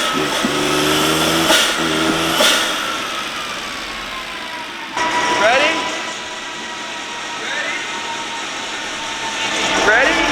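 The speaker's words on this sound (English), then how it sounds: "that turbo makes some cool noises" A turbocharged JDM kei car engine revving on a dyno, loud and near, its whine rising and falling in several sweeps while voices talk over it.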